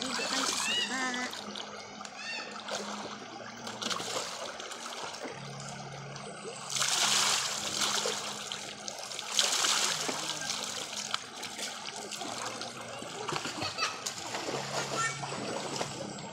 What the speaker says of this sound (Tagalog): maligo tayo sa sapa